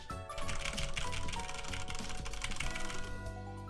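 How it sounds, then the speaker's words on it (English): Rapid keyboard typing in a video game scene, a dense steady stream of clicks running throughout with musical tones underneath. "live typing."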